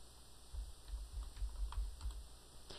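Keys clatter softly on a computer keyboard as a word is typed into a Windows search box, a quiet run of light taps close to the microphone.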